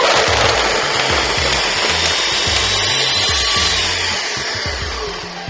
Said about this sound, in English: this is a Ninja blender, and it is very, very, very powerful